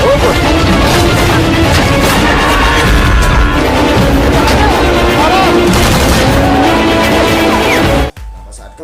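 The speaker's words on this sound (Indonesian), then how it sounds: "3 prajurit lainnya mulai membalas tembakan-tembakan dari musuh" Continuous heavy gunfire and explosions rage for several seconds as soldiers exchange fire with an enemy in a film scene, dense and loud, then cut off abruptly into near silence.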